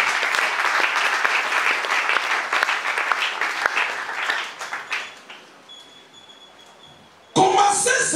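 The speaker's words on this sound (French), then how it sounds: "Est-ce qu'on peut acclamer pour la parole?" Church congregation applauding at a French-language service, a loud sustained wash of clapping that thins and fades out over several seconds before another burst of sound cuts in at the end.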